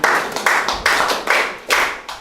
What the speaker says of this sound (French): On peut applaudir pour elle.